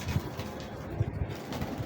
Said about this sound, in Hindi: ये है मियाँ साहब वाली डब वाली कबूतरी